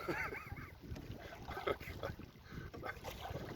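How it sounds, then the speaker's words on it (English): Gusty wind buffets the microphone while a solo canoeist paddles across an open lake, a steady rushing roar with faint water sounds beneath it, continuous and close throughout. "I realize there's going to be wind noise on this one, and I'm in it deliberately."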